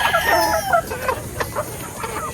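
Imported gamefowl roosters crow loudly and cluck close by, one drawn-out crow followed by bursts of clucking against a busy background of other birds.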